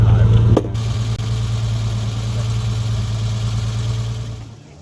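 A 1972 Triumph TR6 engine, restarted after sitting dormant, idles slightly high with a low, constant hum after a brief louder burst at the start, running on evenly until fading near the end.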